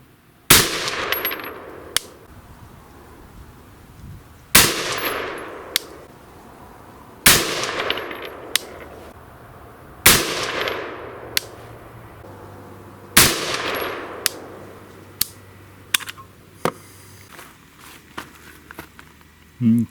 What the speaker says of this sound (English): I'm going to send 5 shots down to verify that we return to zero with the LaRue mount